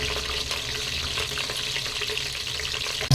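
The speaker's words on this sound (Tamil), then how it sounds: "ஒரு பட்டை, மராத்தி மூக்கு, ஏலக்காய், கிராம்பு எல்லாம் போட்டு தாளிச்சுக்கலாம்." Whole spices (cinnamon, marathi moggu, cardamom and cloves) sizzle in hot oil for Thalappakatti-style chicken biryani. A steady, close crackle and hiss runs the whole time with no speech.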